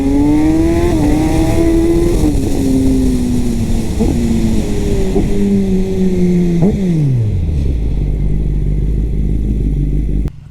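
A Kawasaki ZX-10R sport motorcycle revs hard and loud, its engine pitch climbing through several gear changes before dropping sharply to a low idle.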